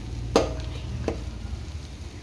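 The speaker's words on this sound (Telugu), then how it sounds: "తిప్పుతూ ఉండాలి అడుగంటకుండా, కింద నుంచి పైదాకా." A cooking dish being stirred in a pot to keep it from sticking to the bottom, with two short scraping strokes over a low steady background hum.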